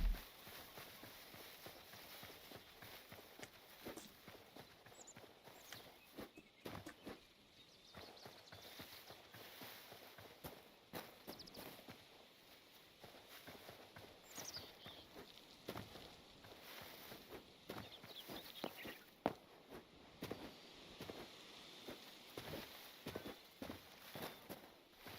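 Horse hooves clip-clop in the video game Hytale, a faint, irregular string of light knocks over soft ambient background.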